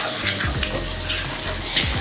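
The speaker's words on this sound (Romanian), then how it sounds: "Călim în continuare, da?" Chicken pieces sauté in a pan for ostropel with salt, pepper and bay leaves, giving a steady close sizzle with a few soft stirring scrapes throughout.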